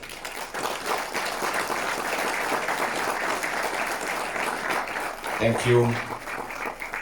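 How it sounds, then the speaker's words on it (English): An awards-ceremony audience gives a round of applause for a risk management team, a broad wash of clapping that stays fairly even and moderate, with a brief spoken thanks near the end. "allow me to request the team to stand and give them a reverberating round of applause."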